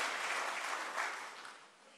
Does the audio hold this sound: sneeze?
no